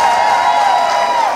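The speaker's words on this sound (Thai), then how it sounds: "ปรบมือดังๆกับพี่" A large anniversary crowd at a business event in Thailand cheers and claps loudly and steadily, a dense wash of shouting and applause filling the space.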